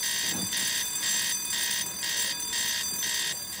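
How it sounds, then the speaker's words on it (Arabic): A bank alarm bell rings in loud, repeated bursts, each about half a second long and separated by short gaps, steady and piercing throughout with no talking. "على طول كده جرس إنذار"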